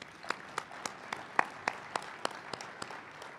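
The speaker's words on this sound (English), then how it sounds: "Please join me in giving her another round of applause." An audience at a closing general session of an annual conservation meeting claps, giving a short, fairly sparse round of applause with distinct individual claps standing out, heard from a middle distance.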